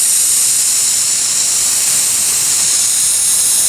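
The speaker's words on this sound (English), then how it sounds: "This is a U-series nozzle. Has 2 streams." A U-series sprinkler nozzle throws a high stream and a low stream of water onto lawn, trees and shrubs, making a loud, steady, unbroken hiss of spray from start to finish.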